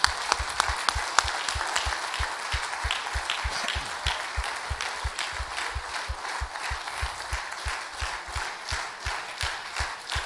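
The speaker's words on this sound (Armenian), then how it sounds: "Եվ պատիվ տան կանանց ծափարելով։" A church audience, with the men standing, gives sustained applause in honor of the women, a dense steady patter of many hands clapping with a rhythmic low thump running through it for the whole stretch.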